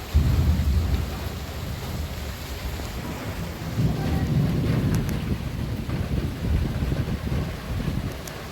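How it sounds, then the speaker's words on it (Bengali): Heavy rain pours steadily during a thunderstorm in the Sundarbans, with deep rumbles of thunder rolling beneath a dense, constant roar of rainfall. "ঝমঝম করে বৃষ্টি একদম বজ্র বিদ্যুৎ সহ বৃষ্টি যাকে বলে সেটা কিন্তু হয়েই চলেছে"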